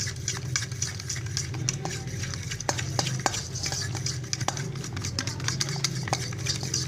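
A spoon stirs an egg and vegetable mixture in a bowl, producing quick repeated scraping clicks against the sides in an uneven rhythm, close up and moderately quiet.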